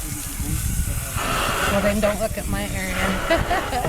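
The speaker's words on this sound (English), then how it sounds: "that noise you hear in the background there, hosing off the wall behind the killing cones" A hose sprays water against a wall behind the killing cones at a poultry processing area, a steady broad hiss running throughout in the background beneath nearby speech.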